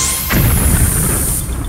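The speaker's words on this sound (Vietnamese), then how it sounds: "Nhìn thế này, tớ sẽ cho cái đầu này nổ luôn." Exploding head of a Skibidi toilet character in a cartoon battle, a single loud booming crash followed by a rumbling decay and a high ringing whine that hangs on for over a second.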